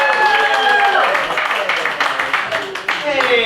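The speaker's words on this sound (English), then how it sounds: "Guys, start clapping right now." Comedy club audience applauding a stand-up comedian, a burst of clapping from a crowd mixed with someone talking over it, fairly close and lively before it thins out.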